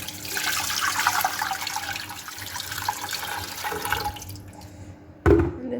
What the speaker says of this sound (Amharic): እንደዚህ ቀዝቃዛ ውሃ ጨምርበታለሁ።